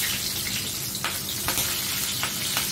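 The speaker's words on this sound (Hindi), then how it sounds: "कढ़ाई में तेल गरम हो गया, इसमें जीरे का तड़का लगाना है" Steady sizzle of cumin seeds frying in hot oil in a kadai, with a few sharp crackles and pops breaking through the constant hiss.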